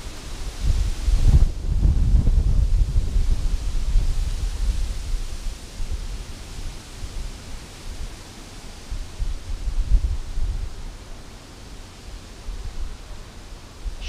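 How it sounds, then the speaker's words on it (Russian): Very strong wind blows across a riverbank, a broad roaring rush that peaks loudly early on, then settles into steady gusting buffeting with rustling, no voices. "Очень сильный ветер."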